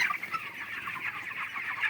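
Chickens cluck continuously in a poultry farm shed, a busy close chorus of overlapping clucks with no voices over it.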